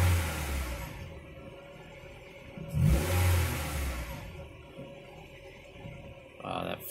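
The engine of a Honda Prelude with an H22 engine, being fixed for a surging idle, rises in a short rev, falls back, and swells again at the end, with talk in between.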